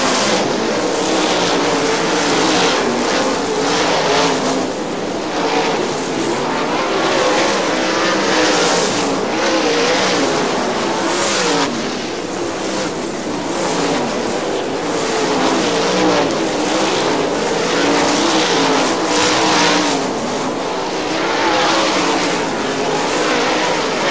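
Loud, continuous roar of 410 sprint cars racing at Butler Motor Speedway in Quincy, engines howling steadily with surges as the pack circles the track, with no let-up throughout.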